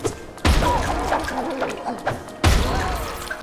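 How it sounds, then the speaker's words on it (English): Explosive bugs bursting on impact in Hollow Knight, two sharp thuds about two seconds apart, each followed by busy game effects and background music. "They turn into explosive bugs. explode on impact."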